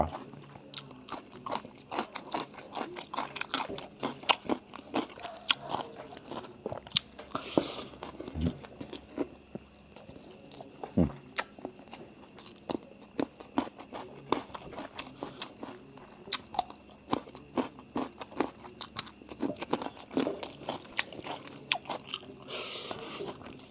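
Someone eats rice, with close, soft chewing and crunchy bites repeating steadily at low volume and no talking.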